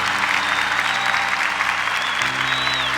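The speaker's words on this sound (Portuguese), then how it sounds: "Vamos aplaudir a nossa igreja?" Congregation applause at a Catholic church gathering, a dense, continuous roar of many hands clapping with sustained musical tones beneath and faint voices in the crowd.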